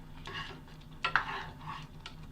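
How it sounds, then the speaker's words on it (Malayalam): A spoon stirs powdered cardamom into a pot of Kerala moong dal payasam, making soft swishing and a couple of brief clinks against the vessel, faint and close, with a low background hum. "ഏലക്കപ്പൊടി ഒന്ന് നന്നായി മിക്സ് ചെയ്തെടുക്കുക."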